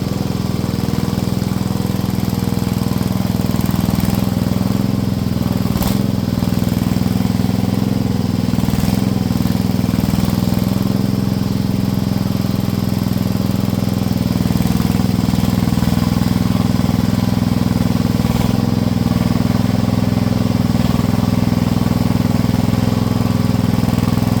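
A Chinese mini excavator engine runs steadily while burying something, a loud continuous near drone with slight knocking roughness that stays unchanged throughout, with no talking.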